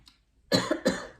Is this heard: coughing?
yes